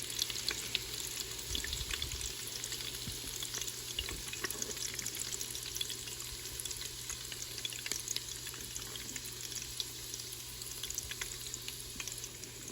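Shrimp egg foo young fries in a Ninja Foodi Deluxe with a steady, even sizzle throughout, broken by faint scrapes and stirs as the food is pushed together.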